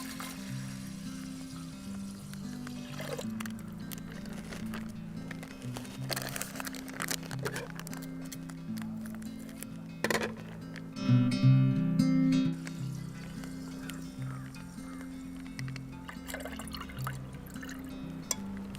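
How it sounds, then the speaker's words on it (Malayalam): One litre of milk is poured from a packet into a pressure cooker for payasam, a brief liquid glug and splash near the middle, amid soft kitchen handling, crinkling and a low background hum. "ഇനി നമുക്കിതിലേക്ക് 1 ലിറ്റർ പാല് പൊട്ടിച്ചൊഴിക്കണം"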